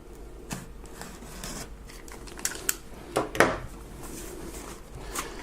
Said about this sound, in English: what's the point of having a utility knife if you don't get to cut some stuff